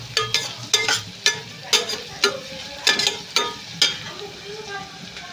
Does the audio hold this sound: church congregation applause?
no